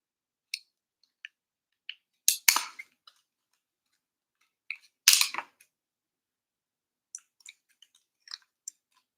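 Scissors cut material for a Christmas village waterfall: a scattering of small crisp snips and clicks, with two longer crunchy cuts, close and quiet, nobody speaking.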